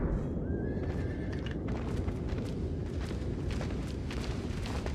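A horse whinnies in the video game Shadow of the Colossus, one rising call near the start over a constant loud rumble of wind and game noise, with sharp hoof-like thumps spaced through the rest.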